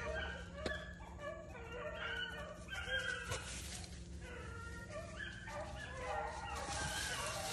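A small beagle pack of five hounds on a cool fall morning barks and yips in repeated bursts with some whimpering, moderately near, over a faint outdoor background.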